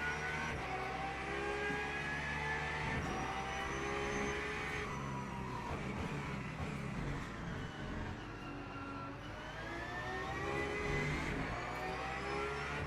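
A race car engine in the Le Mans Ultimate racing game, with Mustangs on the track, roars steadily and loudly, its pitch climbing and falling through gear changes as the car accelerates, with no talk over it.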